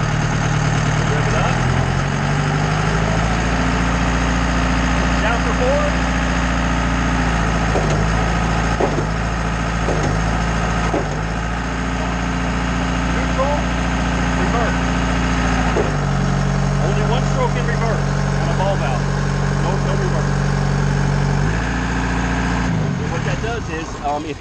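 A Schwing concrete pump machine with an HBV160 ball valve runs loudly and steadily, its engine droning and vibrating close by with slight shifts in pitch as it cycles.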